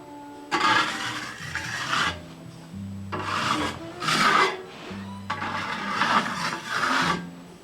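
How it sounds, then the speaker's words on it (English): A putty knife drags lightly across a fresh plaster patch on old lath-and-plaster wall, giving close, dry rasping scrapes in about five strokes, each a second or so long, with short pauses between them. "Now I'm just lightly dragging the knife across here."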